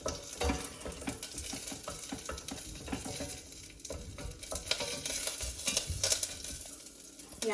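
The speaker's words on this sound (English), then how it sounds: "I'm gonna stay a little back, and I'm gonna make it a good stir." Khichadi sizzles in hot oil in a pan while a spoon stirs it, giving a steady close frying crackle with scraping and clinks throughout.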